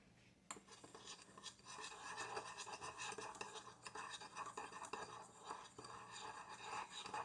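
A black pepper seasoning mix for BBQ ribs being stirred, with a continuous soft scraping and rubbing of utensil against bowl, quiet and close, running steadily for several seconds.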